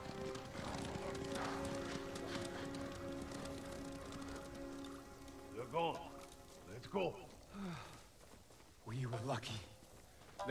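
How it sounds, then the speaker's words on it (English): Horses gallop past in Ghost of Tsushima, heard as rapid, rhythmic hoofbeats with occasional whinnies, loud and close at first, then rising in bursts under continuous game music and ambient rain. "You hear that? Horses."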